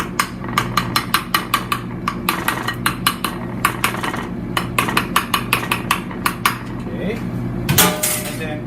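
Close, loud metallic fork tapping against a plate while pricking a raw pork cutlet for tonkatsu, coming in fast bursts of rhythmic clinks with short pauses, then a scrape near the end.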